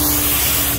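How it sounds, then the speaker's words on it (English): A paint spray gun gives a loud, close, continuous hiss in a short steady burst while applying the first coat on a 1996 Cadillac Fleetwood repaint. "Most of the time you would spray a little slower"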